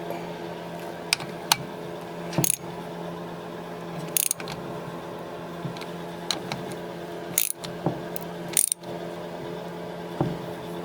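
Ratchet tightening bolts on a neglected 1983 Yamaha YZ80 dirt bike, heard as scattered short metallic clicks and clacks in a few brief bursts against a quiet background.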